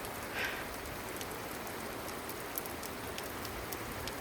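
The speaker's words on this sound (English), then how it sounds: "Got the storm coming through now. It's raining." Steady rain falling during a passing storm near an overhang by restroom buildings in South Dakota, a dense even hiss of drops with a few sharper ticks, constant and close.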